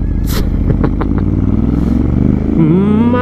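Ducati sport motorcycle pulling away on an uphill slope using a slipping half clutch, its engine loud and close with a lumpy low idle, small clatters and blips, then rising revs as it moves off.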